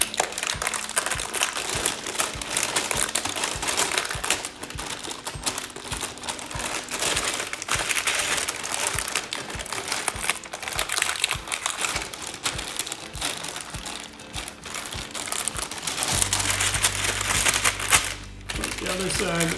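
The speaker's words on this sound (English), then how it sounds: "You're going to hold your parchment paper right in the pan, start rolling it, and kind of pull the paper back" Parchment paper crinkles and crackles steadily as soft, sticky s'mores pinwheel dough is rolled up in a pan, a dense papery rustle running throughout, with a brief low hum near the end.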